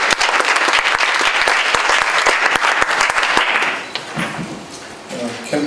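Audience applause at a job-committee launch ceremony for a presidential campaign, dense steady clapping from a crowd that fades out after several seconds into room noise.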